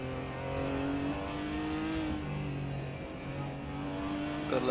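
Onboard engine of a Porsche race car at Jerez in a racing game, a steady loud droning note that rises and shifts between gears with brief dips as it laps the circuit.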